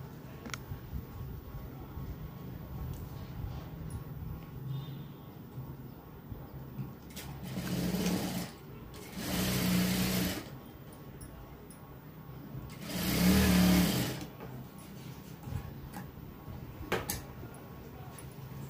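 Sewing machine stitching tucks on a kali cut dress, a few short bursts of motor whir separated by quiet pauses, fairly faint and close, with no talking.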